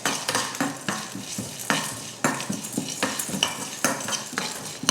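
Pepper, cumin, cloves, cinnamon and cardamom dry-roasting in a pan, heard as a constant dry rustle with repeated scraping and clinking strokes of a spoon stirring the spices.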